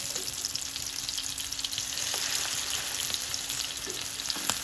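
Carrot kebabs fry in a pan, giving a steady, close hiss of sizzling oil with small crackles and pops throughout and no talking.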